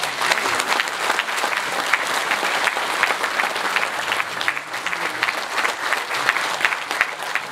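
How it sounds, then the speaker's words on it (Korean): Dense, steady audience applause fills the hall at a provincial party branch launch ceremony as party advisers stand to be introduced, continuous clapping at constant loudness with no talk over it. "뜨거운 박수 부탁드리겠습니다."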